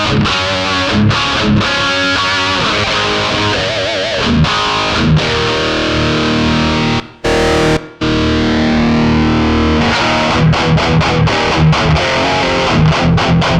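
Electric guitar played through a Joyo Chopper-Z distortion pedal using its cab simulation, fed straight into an audio interface: heavy distorted chords and riffs with abrupt stops, a brief near-silent gap midway and chugging palm-muted hits near the end.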